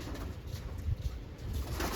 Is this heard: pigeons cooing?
yes